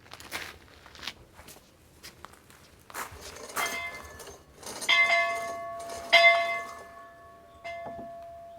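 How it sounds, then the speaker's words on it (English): A bell in a farm bell tower rings several times with clear metallic strikes that leave long, resonant tones fading out between hits. Footsteps and shuffling can be heard at the start. "I thought we would ring the bell."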